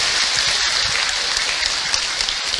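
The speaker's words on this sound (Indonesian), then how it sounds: "Tepuk tangan buat bunda yang ada di sini." A large crowd at an Islamic lecture claps steadily and loudly throughout, a dense continuous wash of applause with no clear speech over it.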